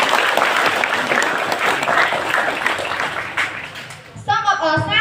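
Audience applause at a school certificate ceremony, a loud burst of dense clapping that fades over about four seconds before a voice starts speaking.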